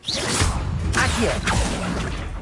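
Accio summoning spell in Hogwarts Legacy, a series of loud swooshing whooshes with a quick sweeping rush near the start and two more sharp swishes, fairly close and alone.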